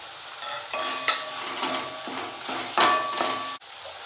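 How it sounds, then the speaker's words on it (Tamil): Turkey berries and tomatoes sauté in a pan with a constant sizzle, broken by repeated scraping stirs and light metallic clinks of a spoon against the pan, with no voices. "இப்போ நம்ம வதக்கி வச்சுக்கிற சுண்டைக்காயும் சேர்த்துக்கலாம்."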